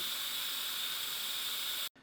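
Pressure cooker quick release while cooking hot and spicy Italian beef: a steady, bright, loud hiss of escaping steam that cuts off abruptly near the end.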